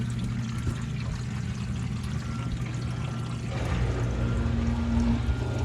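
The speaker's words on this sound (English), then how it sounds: "Just gonna let that dishwasher run its cycle all the way through" Dishwasher running its cycle, a steady broadband rush of water sloshing and spraying with a low hum underneath, continuous and fairly loud, with no talk.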